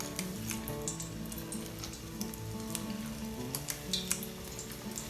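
Apple fritters fry in hot oil with a dense, steady sizzle and scattered crackling pops, close and continuous throughout, with no voices.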